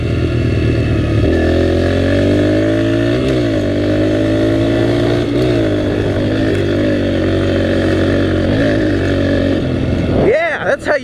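A dirt bike engine roars loud and close throughout a ride through jungle, holding a steady, buzzing drone whose pitch dips and rises slightly before a sharp rev near the end.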